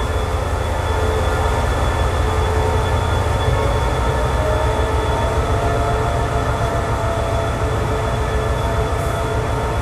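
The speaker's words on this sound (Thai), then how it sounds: "ก็ได้เวลาที่ขบวน51ออกสถานีอุตรดิตถ์" Train number 51 departing Uttaradit railway station in Thailand, a loud, continuous rumble of railway cars and wheels on track that stays steady and close throughout.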